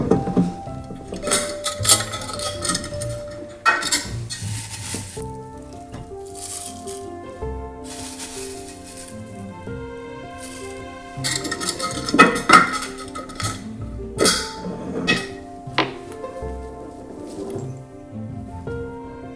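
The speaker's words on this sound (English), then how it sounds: "now we're gonna take our second ingredient, mint, and we're going to add this to our mortar" Mint is added to a mortar while mixing a chamomile face scrub, producing clinks and rattles of utensils and dishes with scraping and clattering, busier in bursts, near and fairly loud.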